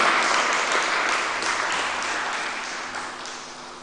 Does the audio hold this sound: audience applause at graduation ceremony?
yes